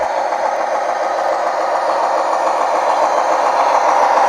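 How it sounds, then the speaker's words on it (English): A Lionel Christmas Express model train locomotive rolls along its track, giving a steady, loud, continuous whirring hum with no pauses. "this locomotive really looks refined as it rolls along"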